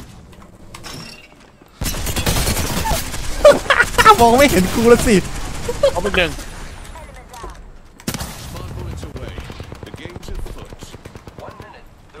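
Rapid bursts of automatic gunfire in the video game Apex Legends crackle for several seconds, loud and close, while people talk over the shooting.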